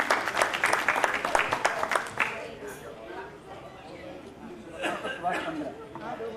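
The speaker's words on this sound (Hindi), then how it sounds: "जोरदार तालियां।" An audience at an India award ceremony claps for award recipients in a strong burst that fades after about two seconds, followed by murmuring chatter and a second, shorter round of clapping near the end.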